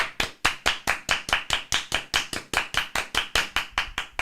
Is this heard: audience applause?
yes